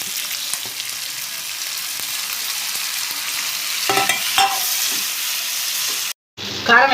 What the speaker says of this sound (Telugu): అలాగే టమాటా కూడా వేసేసుకుందాం.